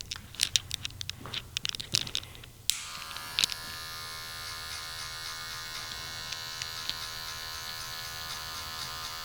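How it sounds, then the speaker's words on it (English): An electric hair clipper fitted with a 1 guard, lever open, cuts a bald fade: a few seconds of scattered snips and handling clicks, then a steady, close, high-pitched motor buzz that runs without a break. "use the 1 guard clipper lever open"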